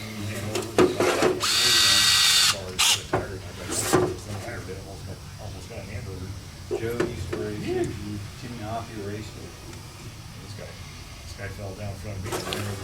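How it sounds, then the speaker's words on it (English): A power drill whines in short bursts while drilling into metal on a KTM motorcycle engine power valve, first a loud sustained run and then several brief pulses, with someone talking between them. "we're going to get a drill bit, we're going to drill into that now"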